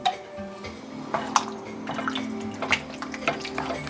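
Water poured from a pot or container into a kale and potato soup roux on a stove, a soft continuous trickling and splashing with a few sharper drips and pours, close and moderately quiet, no talking.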